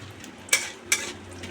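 Five-spice and bay leaf tempering in hot oil gives a quiet sizzle, broken by two sharp clinks of a utensil on the pan.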